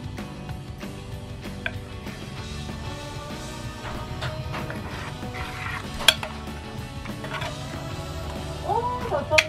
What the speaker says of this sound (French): et on mélange tout.